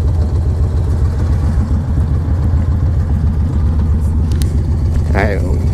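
Two V-twin cruisers, a Yamaha Raider and a Suzuki M109R Boulevard, idle together close by with a steady, loud, throbbing engine pulse throughout, and a brief voice rises near the end.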